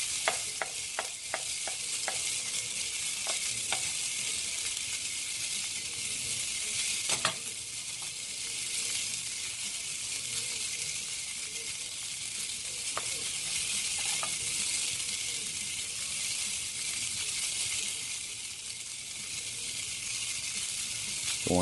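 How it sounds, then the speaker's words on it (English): Garlic frying in olive oil for shrimp scampi gives a steady, dense sizzle that runs unbroken throughout, with a few sharp clicks and taps of a utensil against the pan early on. "Everyone loves listening to the sizzle."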